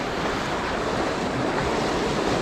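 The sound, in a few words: small waterfall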